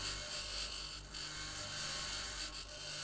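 A handheld grinding tool works against rock on Mars in the game Occupy Mars, producing a steady, harsh mechanical whir with brief dips in intensity, heard alone without talk.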